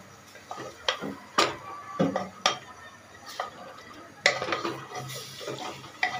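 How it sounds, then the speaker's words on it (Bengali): Meat is stirred and fried in a pan, with repeated sharp utensil knocks and scrapes against the metal over a low background sizzle. The strokes come at irregular intervals, close by and moderately loud. "এখন ভালোভাবে নেড়ে চেড়ে ভাজবো,"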